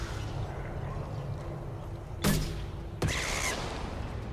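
Two sharp gunshots ring out in Mass Effect 2 while shooting pyjacks, each a loud crack with a short ringing tail over a steady ambient game hum.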